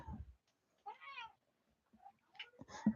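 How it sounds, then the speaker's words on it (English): A cat meows several times in short, separate calls, fairly close and clear against a quiet background, with no talk. "my cat's with me now"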